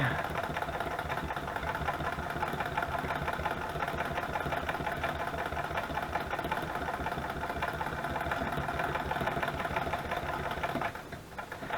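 Sewing machine stitching a fabric journal cover, a steady rapid mechanical whir and ticking at close range, running continuously before stopping near the end.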